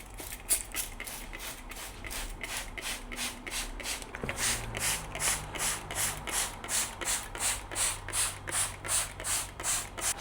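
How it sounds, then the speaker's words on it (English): A hand spray bottle pumps water onto moss poles in a home plant setup, about fifteen quick, evenly spaced hissing bursts in a steady rhythm, close and fairly soft, with no talking. "I just got a spray bottle full of water, and I'm literally just gonna spray all down the fronts of them"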